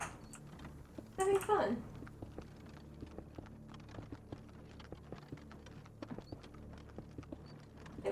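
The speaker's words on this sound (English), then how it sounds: "I'm underwater and you hear horses." Horse hooves clip-clop in a Minecraft server, heard as a steady patter of light, fairly faint hoofbeats with a brief louder burst of sound near the start.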